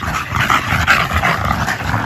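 A shy, nervous new bully-breed dog whimpers and gives short barks and yips, close and fairly loud, in a steady run of vocalising with no pauses.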